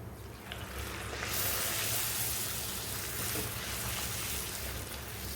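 Puris deep-frying in hot oil in a home kitchen, a steady, close sizzle and bubbling that swells slightly after the first second and holds loud and continuous, with no talking.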